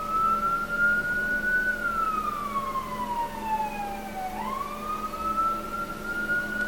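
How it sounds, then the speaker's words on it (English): An emergency vehicle siren wails from a distance, its tone sliding slowly down and then sweeping back up over a low background hum. "Ignore the sirens."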